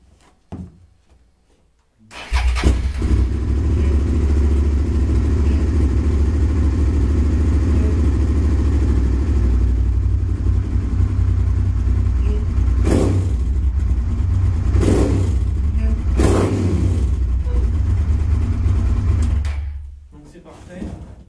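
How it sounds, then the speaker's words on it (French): A Cagiva 650 SV motorcycle engine with a derestricted air system starts and runs at a steady rumble, with a few sharp revs near the end before it cuts off. "Donc là on va vite fait démarrer la moto"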